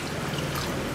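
Two glasses of water poured into a cooking pot while making biryani, a steady, continuous splashing pour heard up close.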